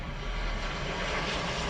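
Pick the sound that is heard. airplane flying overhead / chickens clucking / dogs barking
airplane flying overhead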